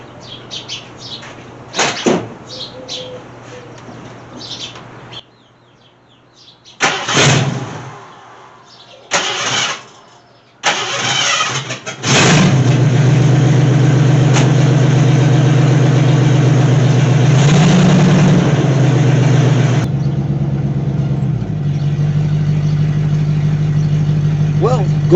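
A car engine is cranked several times in short bursts after a transmission adjustment, then catches and settles into a loud, steady idle close by, with a brief rev change near the end.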